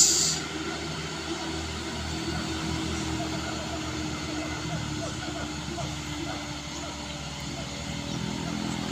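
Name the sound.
truck engine roaring while climbing a steep hill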